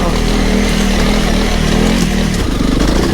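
A Honda CRF300 Rally engine pulling steadily in second gear while riding along a lane, a loud, close, continuous mid-pitched drone with slight shifts in tone near the end.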